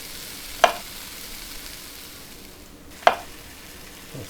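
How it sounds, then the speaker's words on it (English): A knife slicing potatoes on a cutting board in the Cooking Simulator video game: two crisp, separate chops a few seconds apart, then a softer third tap, over a steady low background hiss with no talking. "Take the knife and cut the potatoes."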